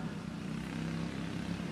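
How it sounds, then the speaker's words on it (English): Racing go-kart engines at the East Lansing Kart Track, including a Duport clone engine, a continuous buzzing drone holding steady and fairly loud for the whole stretch. "Thomas Parker is running a Duport clone engine in his kart"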